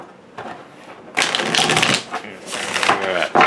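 A deck of tarot cards being shuffled up close, with bursts of riffling and flicking cards in two or three loud runs broken by short pauses.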